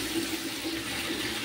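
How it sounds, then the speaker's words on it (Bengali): Chhana whey poured into a simmering curry gravy, a steady close splashing trickle of liquid that runs evenly for a moment and then stops. "তো এই যে ছানার জলটা দিয়ে দিলাম"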